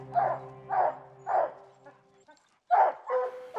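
Hunting dogs on a mountain lion hunt bark in a snowy mountain setting, a few loud barks and yips in a broken rhythm with short pauses between them, fairly close.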